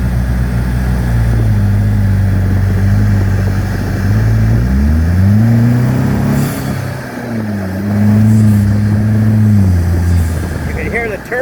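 Vanderhall sports car accelerating hard with its turbocharger spooling, engine pitch climbing and dropping through gear changes, loud and close from inside the cabin, with people talking over it.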